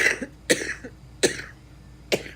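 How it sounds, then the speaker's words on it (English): Four separate coughs, close and fairly loud, spaced about half a second to a second apart with quiet in between. "there must be something down here that makes me cough"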